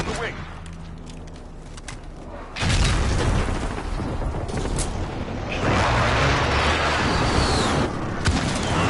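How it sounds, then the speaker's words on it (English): Precision airstrike explosions in Call of Duty MW: heavy booming blasts and rumbling fire that swell abruptly and continue in loud waves, with a brief quieter lead-in of game ambience. "Friendly precision airstrike on the way."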